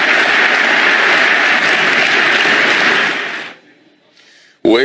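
A large audience gives Putin sustained, dense applause, loud and continuous for several seconds before cutting off sharply, followed by a brief quiet gap.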